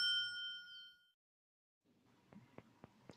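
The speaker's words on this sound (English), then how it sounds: "I got an alert on my phone that says calendar 11 minutes ago, take out the trash" A phone calendar alert rings out as a single bright, sustained ding lasting about a second, followed by a brief silence and then a few soft taps.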